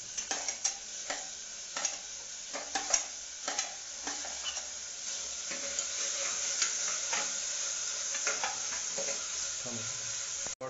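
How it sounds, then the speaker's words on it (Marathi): Tomatoes added to softened onions fry and get stirred in a pan for moong dal khichdi, with soft sizzling under frequent close spatula scrapes and clinks that settle into a steadier hiss. "त्यामध्ये आता आपण टोमॅटो टाकणार आहोत."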